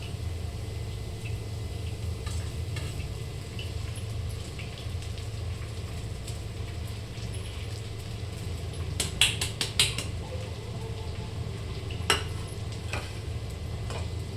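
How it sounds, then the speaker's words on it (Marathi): Sago pearls stirring in hot oil, a faint steady frying hiss under a low background hum, with a few sharp clicks of the spoon near the end. "आता आपण यात आपली शाबू दाणे टाकून देऊयात बरं का"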